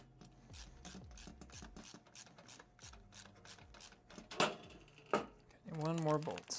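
Rapid ratchet clicks from a wrench tightening a bolt during a vertical-mount RTX 5090 gaming PC build, in several short close bursts with scrapes and knocks between, ending in a louder rustle.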